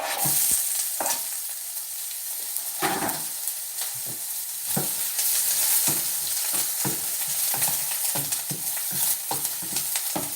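Onions frying in a pan, giving a loud, steady sizzle broken by repeated scraping stir strokes close at hand, with no talk.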